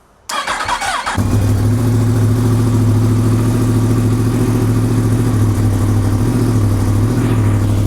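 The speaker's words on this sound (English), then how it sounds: "So let's start. There we go." A Yamaha R1 sport motorcycle being rebuilt after a crash starts up: a brief whir and crank, then the engine catches and settles into a loud, steady close-up idle drone.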